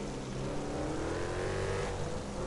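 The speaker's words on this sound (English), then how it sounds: "Oh, the engine sounds good." A car engine in GTA V roars and revs steadily, loud and continuous, with a rising whine as it accelerates.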